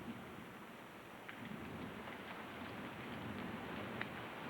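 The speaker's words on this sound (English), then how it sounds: "The day started out gray and rainy." Steady rain falls on a gray day with low rumbles of thunder underneath and faint scattered drops, soft and continuous, with no talking.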